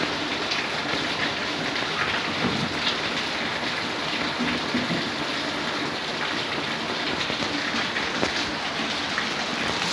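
Steady rain pouring down continuously outdoors, a dense even hiss of drops on surfaces that holds for the whole stretch with no talk.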